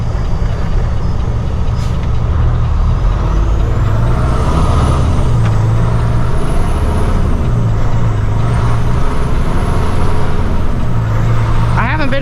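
A Freightliner Cascadia truck drives with a loud, constant engine and road drone, and its air brakes hiss briefly near the end.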